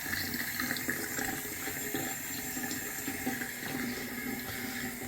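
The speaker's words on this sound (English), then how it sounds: "we're letting the water run a little bit. Make sure there's no leaks." Water runs steadily from a newly installed bathroom sink faucet on a vanity, a continuous close splashing stream that holds throughout with no voices.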